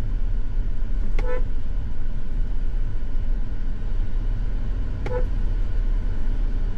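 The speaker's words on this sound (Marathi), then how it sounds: "तू किती हॉर्न वाजवतोय वाजव" Two short car horn toots, seconds apart, sounding over steady road and engine rumble.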